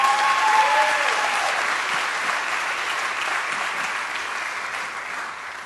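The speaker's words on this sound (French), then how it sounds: "Je pense qu'on peut l'applaudir ce matin." A church congregation claps together during a morning service honouring a mother of five, a full, even burst of applause that carries on steadily and slowly softens, with a faint tone and murmur beneath.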